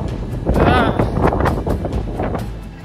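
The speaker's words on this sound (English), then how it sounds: "we basically just survived a typhoon last night. I mean, the typhoon is still going, really." Typhoon wind buffets the microphone with a loud, continuous low rumble and roar, and a voice talks over it.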